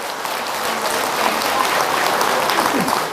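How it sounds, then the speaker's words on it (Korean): A crowd breaks into sustained, even applause, a continuous wash of clapping filling the room for a few seconds. "박수 한번 드리세요."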